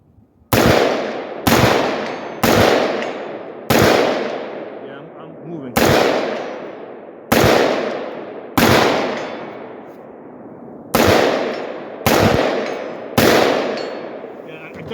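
Eleven sharp, loud gunshots from a 5.56 rifle fitted with a Kaw Valley muzzle brake, fired at an uneven rapid pace at a 150-yard target, each blast trailing off in a long ringing decay outdoors.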